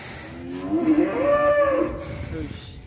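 Rossi, a huge prized bull being shown as a candidate sacrificial animal, lets out a long, loud, deep moo that rises and falls over about two seconds against outdoor background noise.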